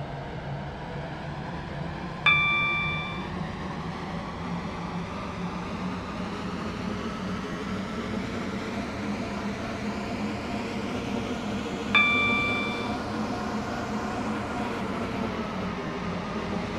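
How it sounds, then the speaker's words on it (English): A passenger train on the Waterline service in the Roblox SCR game runs with a steady, low rumbling hum and airy cabin noise throughout, broken twice by short chime tones. "This train is now approaching Eden Key."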